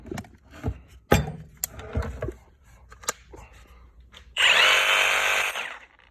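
A Kobalt cordless reciprocating saw is handled with several clicks and knocks, then runs in a loud, steady buzzing burst of about a second and a half before stopping.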